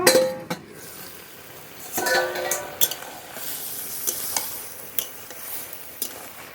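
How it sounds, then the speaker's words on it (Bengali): Bottle gourd curry with turmeric and foli fish is sautéed in a pot under a lid, with soft sizzling broken by frequent close spatula clinks and scrapes against the metal, some louder knocks spaced irregularly. No voices. "ঢেকে ঢেকে একটু কষিয়ে নেব"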